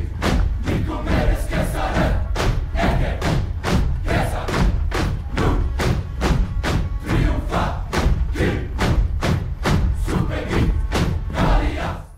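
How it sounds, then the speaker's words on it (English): Shields bang in steady, heavy thuds that drive a marching battle beat in the Heilung song Drif. A chanting crowd sounds under the rhythm, which is loud and continuous throughout. "you can hear the shields banging, like the creak of the wood"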